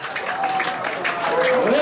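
An audience applauds at an evening gala as a guest star is welcomed: steady clapping runs through the whole stretch, with a voice and a sustained tone riding over it.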